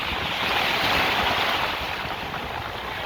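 Rough ocean surf pounds steadily near Los Angeles, a dense continuous wash of breaking waves with wind buffeting the microphone throughout, loud and close, with no voices.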